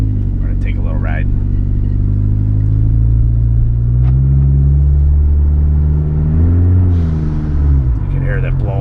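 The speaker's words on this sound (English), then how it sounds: "You can hear that blow off. You give it a little gas and you let off." A 2006 PT Cruiser GT turbo revs with a loud, steady engine rumble as the pitch rises and falls with the throttle, and a brief hiss of blow-off comes as the gas is released, all heard from inside the car.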